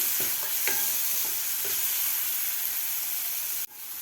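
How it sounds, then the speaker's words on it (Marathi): Tomatoes sautéing in a spice masala in a pan, a steady close sizzle with a few scraping stirs early on, continuous without speech until a sudden drop near the end. "टोमॅटोसुद्धा आपल्याला एक मिनिटभर व्यवस्थित परतून घ्यायचं आहे आपल्याला मसाल्यामध्ये व्यवस्थित टोमॅटो परतून घ्यायचा आहे"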